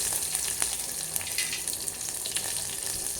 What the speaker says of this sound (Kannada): ಎಣ್ಣೆ ಕಾದ್ಮೇಲೆ ಜೀರಿಗೆ ಹಾಕಬೇಕು, ಮೆಣಸಿನಕಾಯಿ ಹಾಕಬೇಕು